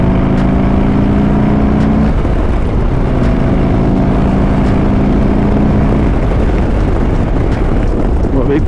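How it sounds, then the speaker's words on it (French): Harley-Davidson Street Bob 107 motorcycle pulling hard along a straight road, a loud continuous engine roar with rising pitch and heavy wind rush overwhelming everything, recorded from the rider's position. "Je vais voir ce que ça donne là, dans cette ligne droite en accélérant un peu."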